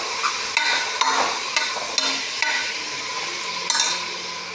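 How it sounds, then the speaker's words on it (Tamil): A spoon stirs chopped brinjal and okra in a sambar pot, with soft sizzling and a series of sharp metallic scrapes and taps against the pot at an irregular pace, close and clear with no talking. "அடுத்தது நம்ம அரிஞ்சு வச்சுருக்கிற கத்திரிக்காய், வெண்டைக்காய் எல்லாத்தையும் போட்டோம்."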